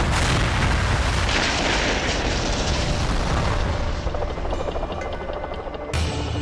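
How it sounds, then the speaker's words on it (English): Loud, rumbling blasts of two massive explosions amid gunfire fill the clip with a continuous roar, ending in a sharp burst near the end. "He sees more gunfire, then 2 massive explosions."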